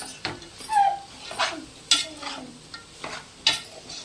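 Salted cooked rice being stirred for fried rice in a pan, a spoon scraping and clacking against the metal in irregular strokes over a soft sizzle, close and fairly quiet.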